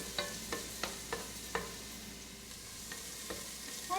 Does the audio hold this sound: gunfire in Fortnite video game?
no